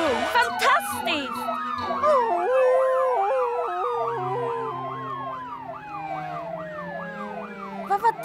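Wailing police sirens sweep up and down in overlapping, repeating cycles, loud and close, while a dog howls along and voices are briefly heard.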